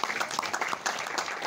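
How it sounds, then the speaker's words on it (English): Audience applause at a launch event for a documentary on Kaivalyadham's yogic science centenary, a steady dense patter of many hands clapping throughout the short stretch. "Let's welcome them with a huge round of applause."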